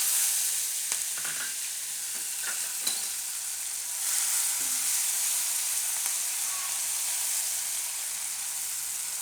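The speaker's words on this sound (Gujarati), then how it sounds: "તેલ આપણું ગરમ થઈ ગયું છે. તો એમાં પહેલાં આપણે નાખીશું જીરું અને લીમડો અને લીલા મરચાં." Cumin seeds, curry leaves and green chillies frying in hot oil, a steady close sizzle with a few sharp crackles and pops early on, no voices.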